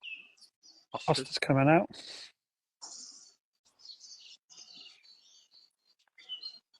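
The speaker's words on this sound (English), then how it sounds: "where the bird noise is coming from, whether it's my own garden or whether it's yours" Small birds chirp in short, faint bursts in a garden, scattered across the clip, while two people talk and someone coughs or clears their throat close to the microphone.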